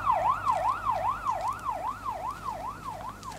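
A police siren wails in the video game Blair Witch, a steady fast up-and-down sweep that repeats about three times a second over low background hum, loud and continuous with no talk over it.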